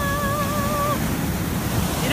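An ocean wave washing up onto the shore, a loud, steady rush of surf that fills the whole moment, close by, with a brief whistle-like tone at the start.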